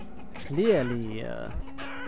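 Chicken in the village-building game Banished making a short clucking, rising call, with synthetic-sounding game audio layered under it.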